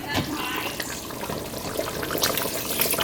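A short, close trickling pour of cornstarch slurry into oxtail gravy in a pan, with soft splashes and bubbling.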